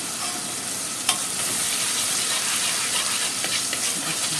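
Shrimp kofta, Alexandrian style, frying in a pan, giving a steady close hiss and sizzle throughout with a brief sharp clink near the start and light stirring scrapes, no voices.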